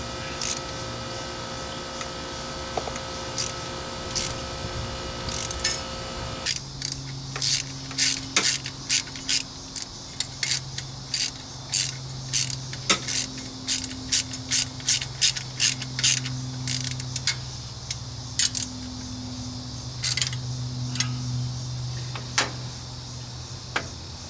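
A ratchet wrench tightens the intake manifold bolts on a small block Chevy engine in a 1972 Nova. Rapid bursts of close, crisp clicking come in quick repeated runs over a low background hum.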